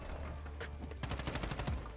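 Rapid bursts of gunfire in Call of Duty: Modern Warfare II multiplayer, loud and dense over two seconds, with overlapping shots that suggest automatic weapons.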